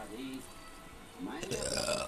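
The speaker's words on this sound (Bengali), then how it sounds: "ঢেকুর উঠে গেল ডাল খেয়ে" A burp after eating thin masoor lentil dal with rice, a short throaty eructation near the end, close and moderately loud, with a brief vocal sound before it.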